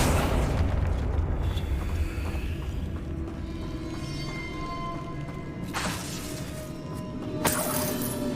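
Confringo blasting spell in a Harry Potter video game: a loud booming blast with shattering crash and rumbling debris, followed by sharper bursts near the end.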